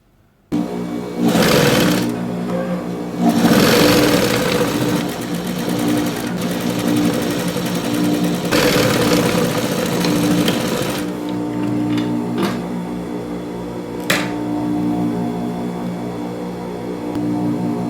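An electric sewing machine stitches fabric for a cushion with an overlock or zigzag seam, whirring in loud bursts that start and stop several times, close and alone.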